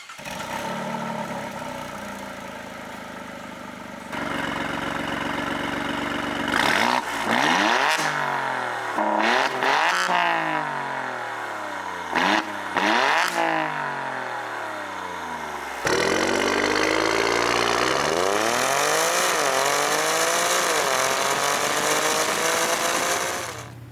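A 2018 Alfa Romeo Stelvio Quadrifoglio's Ferrari-derived 2.9-liter twin-turbo V6 revs hard several times, exhaust roaring up and down in pitch with sharp blips, then climbing in long sustained pulls, close and loud.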